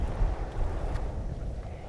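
Blizzard wind in the mountains, blowing steady with gusts amid snow and ice: a loud, continuous low rumbling roar buffeting close to the microphone, with no talking.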